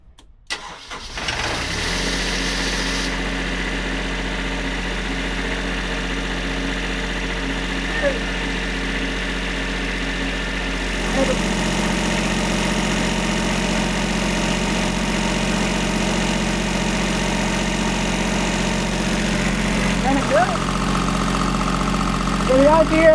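A light tower's engine cranks and catches after preheating, then settles into a steady, loud idle that runs unbroken for about twenty seconds, with a slight change in tone partway through.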